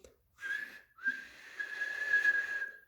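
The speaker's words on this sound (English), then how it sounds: "The guard blew his whistle" A guard blows a shrill whistle for a train to depart: a short first blast, a brief pause, then a longer sustained blast, fairly faint and alone.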